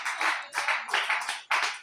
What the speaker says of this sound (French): Applaudissez le Seigneur pour sa vie.